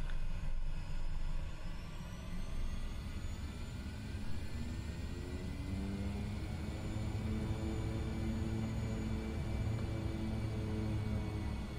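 Custom-modelled engine of a MilViz PC-6 Porter in Microsoft Flight Simulator, a steady low propeller drone and rumble that holds evenly throughout, with faint higher whine above it and no talk.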